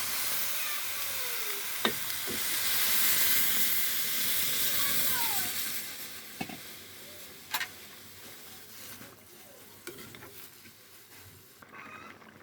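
Water poured into a hot pan, giving a broad hiss of sizzling and steam that swells and then fades, with scattered clicks and taps of a utensil, fairly quiet and close.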